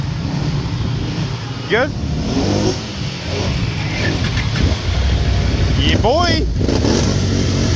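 A 2023 Can-Am Outlander 850 ATV engine runs steadily and revs up twice during a ride, a close mid-pitched drone with brief rising surges, while people talk briefly over it.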